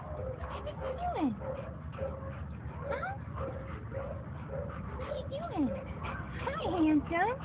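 A puppy whimpers and yips in rising, squeaky cries that repeat throughout, close by, with a person talking softly over it at times.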